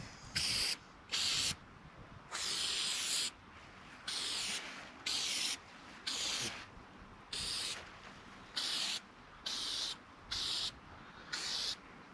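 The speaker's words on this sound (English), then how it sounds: "use the Flex Seal adhesive remover to spray on" Short bursts of Flex Seal adhesive remover spraying from a can hiss again and again in an uneven rhythm, close by, with quiet rubbing sounds between the sprays.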